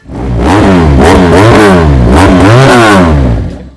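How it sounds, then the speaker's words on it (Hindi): A Chinese-made 400cc heavy motorcycle engine revs up and down repeatedly, loud and close, with rising and falling pitch sweeps and no talk. "ये 400 सीसी बाइक है।"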